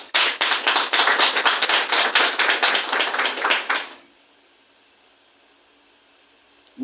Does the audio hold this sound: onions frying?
no